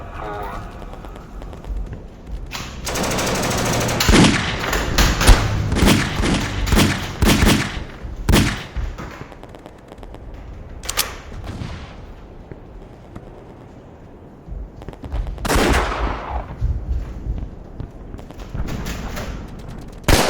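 Gunfire sound effects in a war scene set during the Persian Gulf War, with bursts of loud shots clustered early and again later, mixed with voices.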